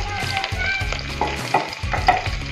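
Tomato goes into frying onion in a pan for a matar pulao, giving a loud, steady sizzle with stirring scrapes and bursts of spitting oil, close and alone.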